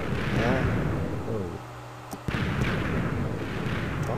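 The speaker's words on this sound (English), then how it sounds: "All the TNT are gone, but there's still explosions." Minecraft TNT explosions, a series of booming blasts with a sharp crack partway through, under people talking.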